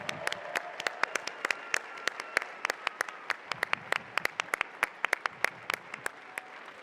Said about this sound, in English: give another big applause so they can hear in the machine shop across the pits of how much you appreciate their work